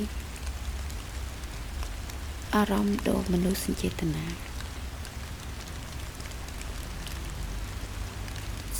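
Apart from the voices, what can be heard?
steady rain falling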